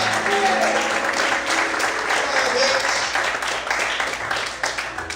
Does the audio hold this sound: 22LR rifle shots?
no